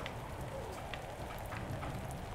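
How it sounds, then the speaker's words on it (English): Continuous patter of acid rain in the Roblox game Natural Disaster Survival, a steady, dense wash of falling drops at low level with no voices. "Oh, acid rain."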